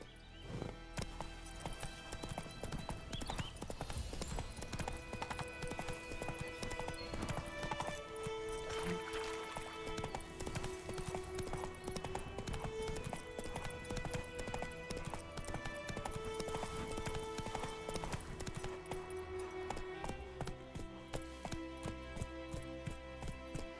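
Roach, the horse in The Witcher 3: Wild Hunt, gallops in rapid, steady clip-clop hoofbeats under an orchestral game score. The horse snorts now and then, and the hooves stay close and even throughout.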